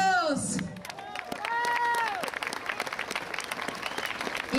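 Outdoor crowd at a staged reenactment of a general's death in Las Nieves, Durango, applauding and cheering, a steady broad clatter that swells and dips, with loud voices calling out over it throughout.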